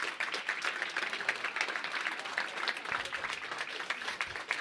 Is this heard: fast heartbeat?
no